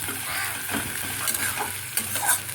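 Tomato is stirred as it fries in oil for a hot and sour tilapia fish curry. A soft sizzle runs under light scraping stir strokes, close by and with no voices.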